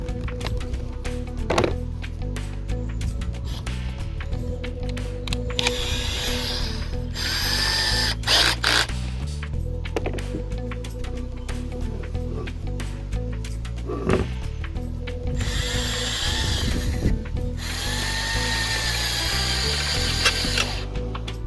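A power drill with a 5/32 bit bores into the ball joint on the upper control arm of a 1977 C3 Corvette, running in several loud whining bursts with pauses, mechanical clatter and ratcheting between runs.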